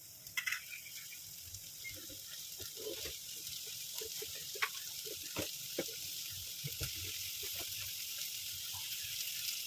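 Long-podded cowpea pods stir-fried in a pan, a faint continuous hissing sizzle with scattered light scrapes and taps from stirring, soft and close without talk.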